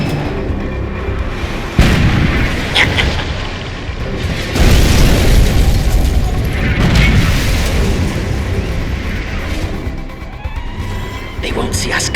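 Rocket artillery fire from Command & Conquer 3: Kane's Wrath, loud booming launches and blasts running continuously over roughly twelve seconds, with game unit voices calling out in between.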